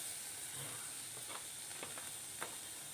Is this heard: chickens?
no